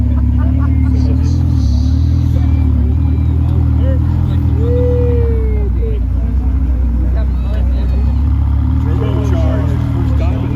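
A turbocharged Lamborghini engine hums steadily and close throughout, a deep droning tone with a brief rising whine partway through, and faint chatter may sit underneath.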